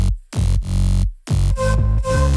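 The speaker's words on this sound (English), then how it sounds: "So here is the bass for the part A. It sounds like this." A synth bass line for part A of a remake, built in FL Studio, plays alone and loud as a few rhythmic sustained notes separated by short gaps, with pitch shifts between them.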